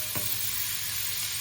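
Mushrooms and spring onion frying in a pan, a steady close sizzle with one brief stir near the start, no talking.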